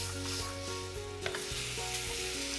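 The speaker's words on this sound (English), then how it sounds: "in a nice hot pan, you're going to melt the butter over a medium heat. And then you add your pear wedges." Pear wedges sizzling in melted butter in a hot pan over medium heat: a constant loud frying hiss, close up, with a few soft clinks of utensil on pan and no voices.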